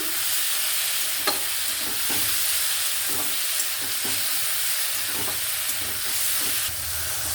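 Shrimp curry seasoned with turmeric is stirred in a frying pan: a steady sizzling hiss with sporadic scraping strokes of the spoon every second or so, close and fairly loud, with no one talking.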